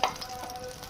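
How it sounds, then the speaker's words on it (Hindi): Chicken kebabs sizzle briefly in oil in a kadhai, a short close crackle that starts sharply and then settles into a steady low fizz. "तो दूसरे भी हम इसी तरह फ्राई करेंगे।"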